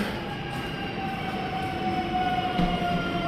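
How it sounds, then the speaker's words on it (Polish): A train rolls past nearby, a steady mechanical rumble with faint tonal whine and rail noise building slightly toward the end, no talking. "o pociąg, ale nie do mnie"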